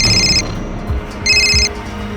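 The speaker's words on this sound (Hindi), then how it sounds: "हमारे खबरी का फोन था" A telephone rings loudly in a tense crime-drama scene, two bursts of bright electronic ringtone separated by a short pause, with no voices over it.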